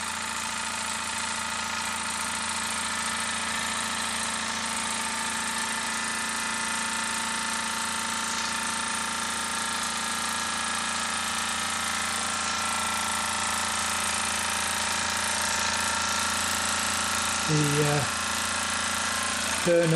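A Wilesco D5 toy steam engine, a very simple small model with a spirit burner, runs at a steady pace, giving a continuous mechanical hum and fine rattle that shifts briefly near the end.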